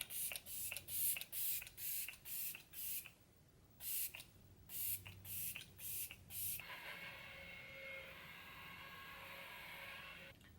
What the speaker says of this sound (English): So I'm gonna set with the Tarte Stay Spray